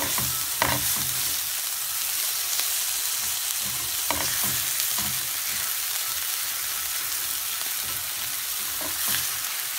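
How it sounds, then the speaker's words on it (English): Quinoa and onions fry in a pan with a steady, loud hiss, and a few soft scrapes from the stirring break through it now and then. "Give it a good stir to get everything in."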